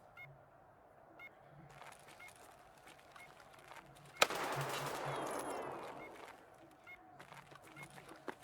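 In the video game Escape from Tarkov, a single sharp, loud gunshot cracks out mid-scene and trails into a noisy echo, with a few fainter pops and clicks of game sounds before and after.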